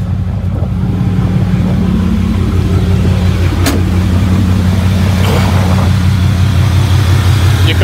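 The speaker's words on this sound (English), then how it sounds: "Your compressor should be spinning like this." The engine of a 1989 Chevy Caprice runs with its A/C compressor engaged, a loud, steady close-up drone and hum with a brief sharp click partway through, without talk.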